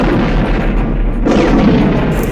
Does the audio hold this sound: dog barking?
no